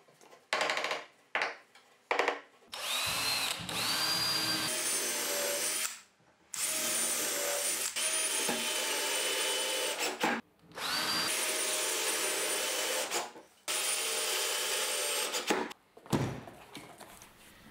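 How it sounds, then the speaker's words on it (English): Power drill driving fasteners through hard plywood pieces into the legs of a workbench, heard as a series of loud, close whirring bursts of a few seconds each, separated by short pauses and a few light knocks. "I fasten four hard plywood pieces to the legs."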